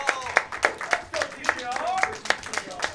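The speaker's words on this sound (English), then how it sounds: "Can we get a big clap in the room for DKR?" A handful of people at a live speedrunning event clap in uneven, scattered bursts for about three seconds, with voices cheering and talking over the claps.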